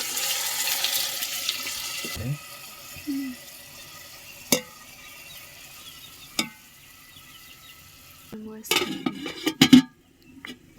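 Chopped tomatoes tipped into a pot of boiling water, heard as a few clinks and scrapes of utensils on the pot with a brief splash and stirring near the end, over a low simmering background.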